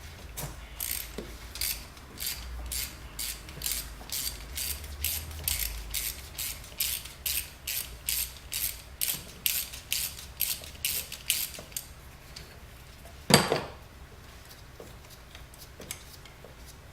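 A ratchet on a flex extension backing out a spark plug on a 2006 Porsche Cayenne, a long run of rapid close clicks at a steady pace, then a brief pause, one louder clack, and a few faint clicks.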